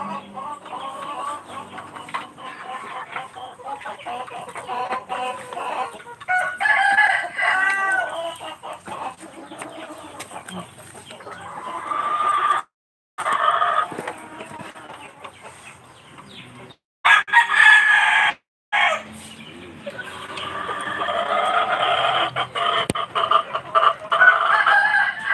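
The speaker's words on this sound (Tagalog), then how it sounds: "madaming manok" Chickens cluck busily close by, with roosters crowing several times over the flock's chatter; no talking.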